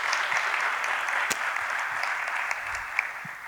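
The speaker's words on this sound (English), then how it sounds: "I think a round of applause is probably in order." An audience at a finance forum applauds after a panel discussion, a dense, even wash of clapping that holds steady throughout with a few sharper individual claps poking through.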